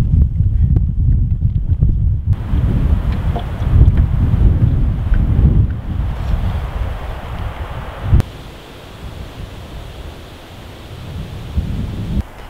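Wind gusts across an outdoor spot during pole fishing, a steady low rumbling roar with buffeting against the microphone, strongest early and easing slightly later, with no talk.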